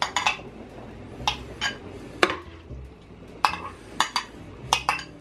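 A spoon scrapes and clinks against a bowl while Greek eggplant salad with raw garlic and onion is mixed, sharp irregular knocks of utensil on dish, close and clear.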